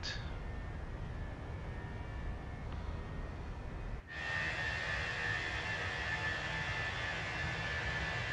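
Airbus A320 jet climbing in Microsoft Flight Simulator 2020, a steady engine roar and whine that drops briefly, then returns louder and brighter with a sustained high tone.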